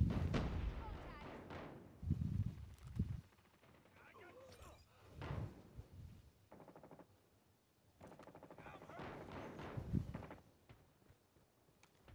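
A bomb explodes amid gunfire in Call of Duty Mobile, several heavy booms and bursts scattered through the stretch, fairly faint, with a player talking and laughing between them.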